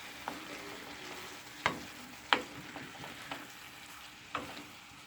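Ackee and saltfish cook in a pan under a quiet, low sizzle while a utensil stirs them. Distinct scrapes and taps against the pan land every second or so, with no talking.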